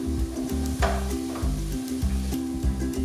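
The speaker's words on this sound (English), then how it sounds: "just sweat these out, saute them a little bit" Vegetables sautéing in a pan for turkey bolognese sauce, a close sizzle under a regular pattern of stirring pushes and scrapes, with a low steady hum beneath and no voices.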